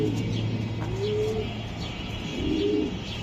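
A racing pigeon coos twice in low, rolling phrases close by, over a steady hum and faint background chirps, with no one talking.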